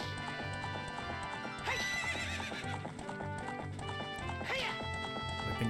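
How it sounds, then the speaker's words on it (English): Ganon's horse in the Ocarina of Time video game, neighing twice loudly over steady clip-clopping hooves and a background of game music. "Is that Ganon's horse?"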